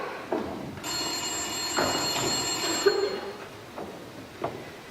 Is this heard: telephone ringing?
yes